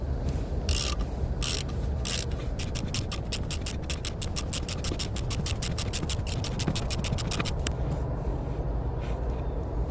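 A socket ratchet clicks rapidly while working on a Ford F350, a few scraping strokes followed by a long run of close, crisp clicks that fade near the end.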